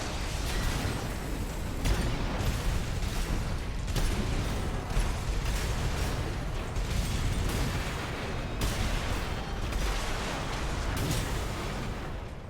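A quad shotgun fires repeatedly in the video game Armored Core VI, dense rapid blasts amid constant mechanical rumble and explosions, loud throughout with no talking.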